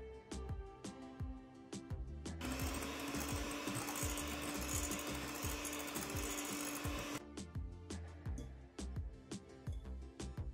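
An electric mixer whirs loudly and steadily for several seconds, beating eggs, sugar and vanilla for a nectarine cake, set between stretches of rapid, irregular clicking and knocking.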